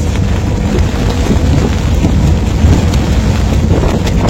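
Heavy rain and gusting wind buffet a boat travelling from Singkil to Kuala Baru, a loud, unbroken rush with low rumbling wind noise throughout and no voices.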